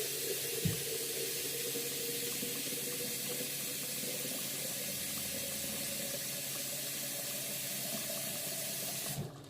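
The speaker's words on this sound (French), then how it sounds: "Alors j'ai pris de l'eau froide. Et là, hop, on met de l'eau froide." Cold tap water pours into a cooking pot while Moroccan lentils with chicken are being prepared. The stream runs as a steady, close hiss for about nine seconds, then cuts off.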